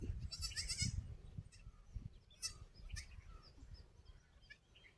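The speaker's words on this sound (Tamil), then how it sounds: "ஆடு நடக்குது குட்டி" A newborn goat kid in a forest gives several soft, thin bleats close by, with faint bird calls and rustling in the quiet background.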